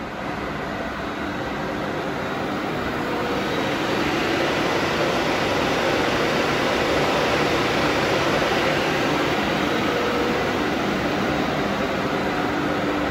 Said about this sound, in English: Working of spindle at its high RPM, which is 940, and you can hear it's very less noise at its high RPM.